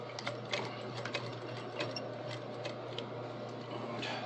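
A sewing machine back stitching runs in quick, even mechanical ticks and whirs, fairly soft and close, with no talking.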